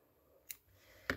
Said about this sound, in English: Now we can take our scissors, you can snip off our yellow